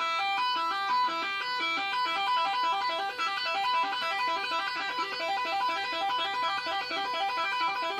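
Fast two-hand tapping triplets run continuously on an electric guitar, a rapid even cascade of bright repeating notes played alone with no pauses.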